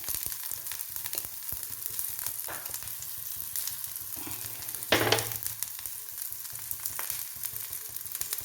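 Onions sizzle steadily in hot oil after mustard seeds, a continuous close frying hiss with a brief louder burst and occasional stirring scrapes.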